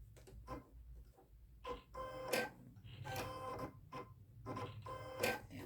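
A sewing machine stitches two rows around a sewn welding cap in short, clattering bursts with pauses between them, the needle ticking rapidly and close by.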